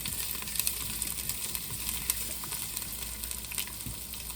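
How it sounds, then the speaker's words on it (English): Onions browning in olive oil in a Ninja cooker set to sear, a steady close sizzle and crackle of frying that runs unbroken throughout. "I just put me some oil in my Ninja, some olive oil down in there, and I got it on sear. So it can start browning these onions"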